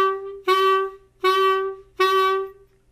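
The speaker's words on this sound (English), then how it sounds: "And you're gonna emphasize the note or give it like a bit of a punch to it." A single pitched instrument plays three accented notes, each struck with a firm punch and then held briefly, spaced evenly about three quarters of a second apart with short gaps between them.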